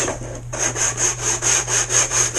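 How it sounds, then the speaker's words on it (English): Chamfering a wooden edge on a model boat sets off close, steady rhythmic rubbing strokes, about eight even back-and-forth scrapes over a low constant hum. "just chamfer this edge"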